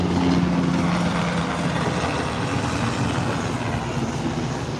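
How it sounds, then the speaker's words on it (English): A military helicopter's steady rotor and engine rumble fills the air overhead, loud and continuous, with no talking. "Here comes one of the hot military helicopters."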